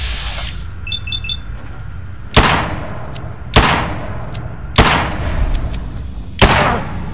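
In the video game Fallout 4, four loud gunshots ring out at roughly even intervals, each a sharp blast with a short echoing tail, after a few faint electronic beeps.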